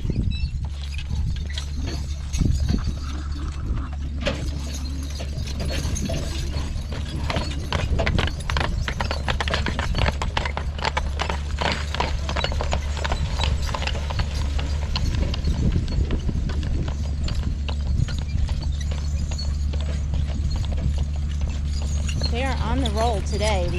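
Horses' hooves clip-clop steadily while the team hauls loads of firewood logs home along a track, a continuous mid-distance rhythm under engine-like rumble, with people talking over it.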